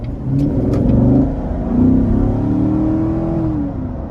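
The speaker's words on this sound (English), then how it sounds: "I'm gonna give it a little throttle out of this corner here." A 2015 Corvette C7 Z51 engine revs up and down under throttle out of a corner, a close, throaty rising and falling roar with no talking.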